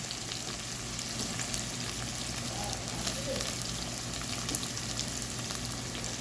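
Onion, garlic and green chili sautéing in oil for a small fish curry, a continuous, even, crackling sizzle held at moderate level with no voices.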